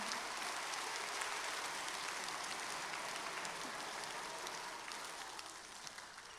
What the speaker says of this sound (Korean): 무대로 올라올 때 큰 박수 부탁드립니다